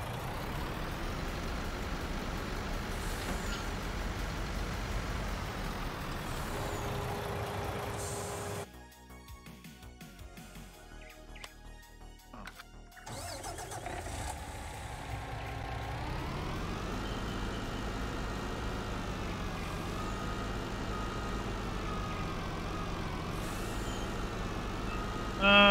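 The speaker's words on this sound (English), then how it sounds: "Let's get a truck. Man, that's a nice truck. It's a man truck." MAN truck in Farming Simulator rumbling with a steady engine drone throughout, briefly cut by a burst of broken, glitchy noise in the middle before the idling engine returns, loud and close with no talk.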